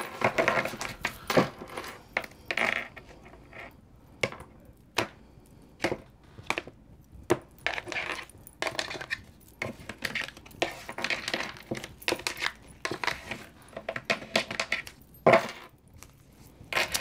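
A deck of tarot cards being cut and handled, giving a run of crisp, close clicks and soft slaps in an irregular rhythm across the whole stretch, with quiet gaps between them and no talking.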